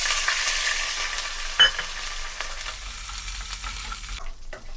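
Hot oil sizzles and crackles steadily with mustard seeds and dried red chilies, a sharp clatter partway through, before the frying noise cuts off near the end.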